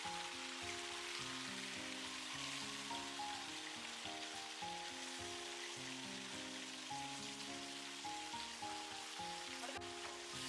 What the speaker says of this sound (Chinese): 把豆腐一片一片下鍋